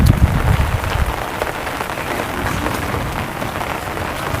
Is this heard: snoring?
no